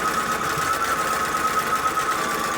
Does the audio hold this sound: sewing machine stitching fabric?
yes